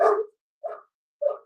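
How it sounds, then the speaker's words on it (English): A dog barks three times in short, evenly spaced barks, close and fairly loud with silence between, in the background of a home setting. "The dog."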